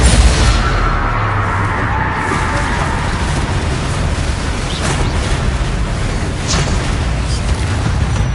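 A Confringo spell explosion in the video game Hogwarts Legacy, a loud booming blast with a rumbling low tail that fills the whole stretch.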